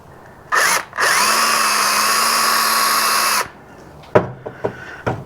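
A power drill drives screws into a wooden headboard being turned into a cemetery sign: a short burst, then a steady whine of about two and a half seconds, followed by a few faint clicks and knocks.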